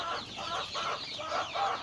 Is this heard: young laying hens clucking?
yes